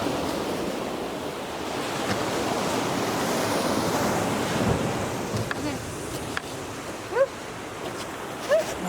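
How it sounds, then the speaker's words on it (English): Ocean waves wash steadily at Leo Carrillo State Beach at night, a broad continuous surf roar that swells midway, with a few faint voices and brief chirping sounds near the end. "The waves already got here."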